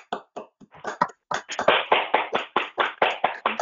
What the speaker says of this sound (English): open all microphones and give Colin a big applause